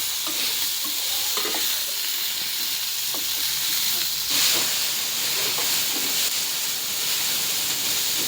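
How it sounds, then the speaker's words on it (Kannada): Steady sizzle and hiss of food frying in a pan on a gas stove in a home kitchen, continuous and fairly quiet with occasional stirring clinks, no talking. "ಇದು ಭೀ ಚಲೋ ಫ್ರೈ ಮಾಡ್ಕೋಬೇಕದು"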